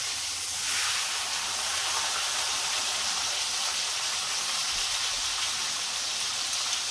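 Steak searing in butter in a hot pan, a loud, unbroken sizzling hiss like heavy rain that runs steadily throughout, close up and without any speech.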